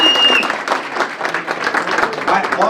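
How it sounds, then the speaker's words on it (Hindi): A crowd at a Vestige 20th-anniversary company meeting in Delhi claps in choppy bursts, with voices and cheering mixed into the applause at close range. "एक बार तालियां भी बनती है"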